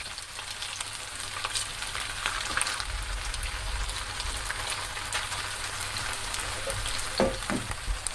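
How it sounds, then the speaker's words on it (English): Potato-starch-coated chicken breast pieces frying in oil in a pan, a steady close crackling sizzle with scattered pops and light stirring clatter, no voices. "Place the chicken pieces in the frying pan and cook each side for about 2 minutes"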